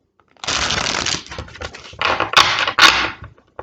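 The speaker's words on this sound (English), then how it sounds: "One more quick shuffle." Playing cards being shuffled up close: a long riffling burr, a short pause, then another riffle ending in a couple of crisp snaps.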